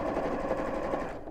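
Close, continuous whirring of a sewing machine stitching a crease along the seam of a bowling bag, with a rapid, even needle chatter and no voices.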